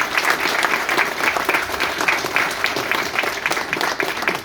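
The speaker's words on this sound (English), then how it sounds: "I want y'all to give him a round of applause right there." An audience claps loudly for several seconds, a dense, sustained round of applause that holds steady throughout.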